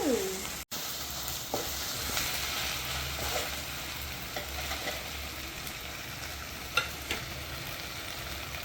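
Chopped onions sauté in a pan for a chicken salna, giving a steady, close sizzle throughout with occasional soft scrapes of a spoon stirring them.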